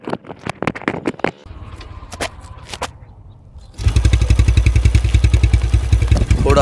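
A Yamaha FZ motorcycle engine is turned over in second gear against compression, first with scattered clunks and pauses, then settling into a loud, steady, rapid chugging rhythm close by.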